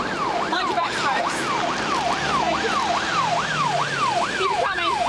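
An ambulance siren wails steadily at a police incident scene, its rising-and-falling sweeps repeating about twice a second, loud and continuous over low traffic rumble.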